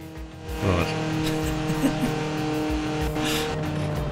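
Car driving in the racing game Forza Horizon 4, a steady engine drone with harmonic whine and a brief rev, continuous and fairly loud, with a voice speaking over it.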